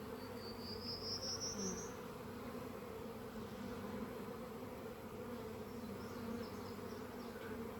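Honeybees buzz steadily and close by throughout a hive inspection, with one bee whining past briefly near the start and a constant insect drone underneath.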